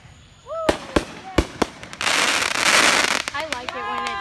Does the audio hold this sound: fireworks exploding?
yes